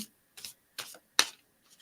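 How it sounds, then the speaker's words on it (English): Tarot cards being shuffled in a few short, crisp riffling bursts with brief pauses between them, close and fairly quiet, with no voice. "All right, shuffling up now"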